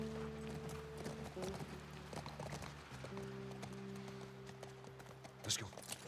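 A horse gallops in The Last of Us Part 1 on PS5, its hooves clip-clopping in a fast, steady rhythm under a droning game soundtrack, fairly faint and even throughout.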